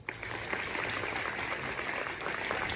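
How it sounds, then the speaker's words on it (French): Applause in a Sorbonne lecture hall greets former prime ministers Édouard Philippe and Bernard Cazeneuve: a soft, sustained patter of many hands, fairly distant and even, starting abruptly and continuing without pause. "vos applaudissements"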